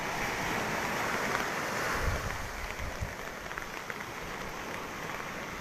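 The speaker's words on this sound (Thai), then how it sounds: "เริ่มมีคลื่นเยอะขึ้นแล้วครับผม" Rough sea waves churn and break along the Thai coast near Samui during Storm Pabuk, a continuous broad roar of surf mixed with falling rain, loud and steady throughout.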